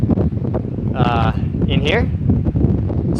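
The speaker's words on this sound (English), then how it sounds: "it might be a little bit loud with the microphone" Electric fan blowing straight into a microphone during a hot day, a constant rumbling buffet of air noise throughout, with a voice talking over it.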